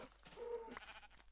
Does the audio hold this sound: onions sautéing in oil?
no